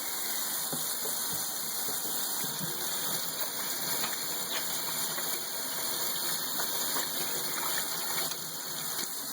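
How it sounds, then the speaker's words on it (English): Tap water runs steadily while hands are washed at a kitchen sink during pork canning prep, a loud, continuous gushing splash close by with small uneven spatters and no talking. "I'm going to wash my hand real quick"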